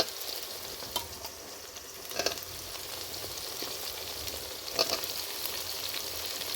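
Onions sauté in a pan for a village-style tamarind curry, a faint steady sizzle with a few soft scraping stirs.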